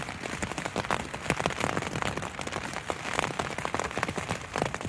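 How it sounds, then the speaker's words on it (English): Rain pattering hard on a tent at night during a windy storm in Ireland, dense and continuous close drumming with gusty rustle throughout. "It's so windy. It's just windy and rainy. The tent's holding up."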